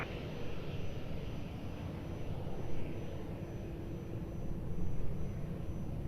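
Airplane taking off from runway 02 at Lisbon Airport, a steady broad engine roar heard from a distance that swells slightly in the middle and again near the end, with no talking.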